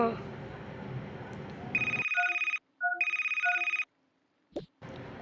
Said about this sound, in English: This is a thunderstorm alert.